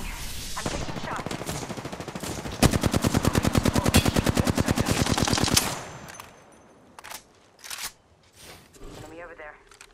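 Rapid automatic gunfire in a video game: a fast, loud stream of evenly spaced shots lasting several seconds, followed by a few isolated shots and a short burst, with a player talking over the action.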